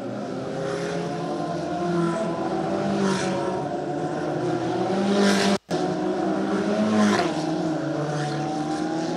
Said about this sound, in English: what a weapon to have at your disposal, the Ferrari 488 Challenge Evo